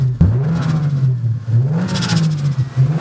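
An older Toyota Supra engine revs up and down close by in short swells, its tone rising and dipping with each blip of the throttle.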